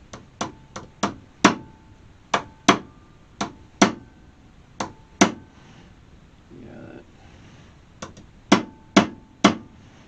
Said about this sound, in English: I'll use a little bigger flat hammer